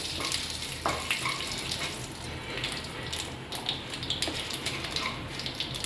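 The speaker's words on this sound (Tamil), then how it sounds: "கொஞ்சோண்டு கருவேப்பிலை, கடுகு தாளித்து உளுந்து நல்லா இந்த கலர் சிறப்பாக மாறி வரும்போது" Curry leaves, mustard seeds and urad dal crackle and sizzle in hot oil, a steady hissing spatter with small pops scattered throughout, close and fairly loud, no voices.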